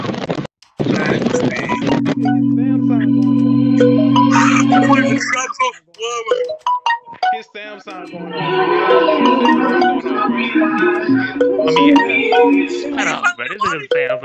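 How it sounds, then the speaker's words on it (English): A Samsung phone ringtone plays a sustained tone followed by a melodic electronic chime pattern, loud and close, with people talking over it, in a Black Ops 2 Xbox 360 lobby. "You hear his Samsung going off?"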